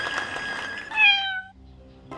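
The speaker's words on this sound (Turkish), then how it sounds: "hemen kediyi de kurtardım" A cartoon cat in a video game gives a single clear, drawn-out meow, loud and close, rising then falling over about half a second, preceded by soft game sounds and followed by quiet.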